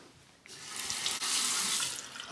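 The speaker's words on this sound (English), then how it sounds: "if you're rinsing your razor under the faucet" A razor rinsed under a running bathroom faucet: a quiet start, then the tap opens into a steady close hiss of water, briefly interrupted as the blade passes through the stream.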